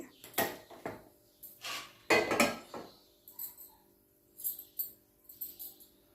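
A metal pot knocks and clanks down onto a hard surface, followed by a few lighter clinks and scrapes.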